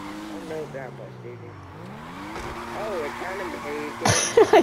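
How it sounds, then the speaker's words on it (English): Video game car burnout with gas and brake held together: a revving engine whines up and down, and a short squeal of tires bursts out near the end, all under steady talking. "Hold the gas and the brake at the same time."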